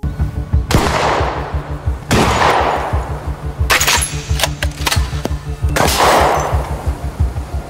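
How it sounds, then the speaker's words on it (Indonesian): Gunshots at shooting practice, four loud reports spaced a second or two apart, each ringing out with a long echoing tail over a steady low rumble, with no talk. "Keesokan harinya, Jang mengajak Miho latihan menembak untuk menghilangkan stres."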